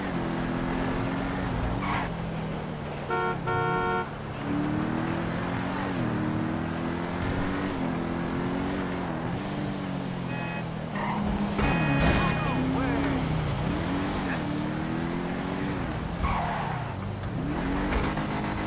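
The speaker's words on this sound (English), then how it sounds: "I think the car handles pretty good, like a regular real-life street car" An Übermacht Revolter car driving in GTA V Online, with a continuous engine note that rises and falls through gear changes and revs, plus brief tire squeals, while a voice talks over it.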